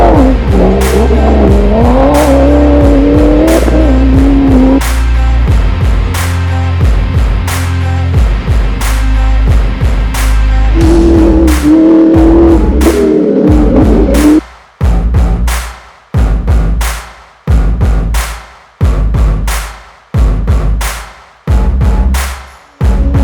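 A rally car drives hard with a loud, close engine, holding a steady roar before breaking into a series of sharp, rhythmic revving bursts, each ending with a quick drop-off.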